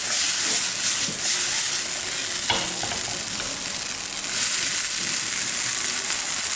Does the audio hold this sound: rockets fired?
no